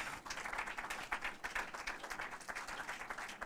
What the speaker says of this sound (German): Großen Applaus, Andreas Kleiner.